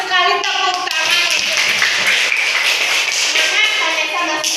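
Classroom applause from students, a dense burst of clapping with children's voices and chatter mixed throughout, close and fairly loud.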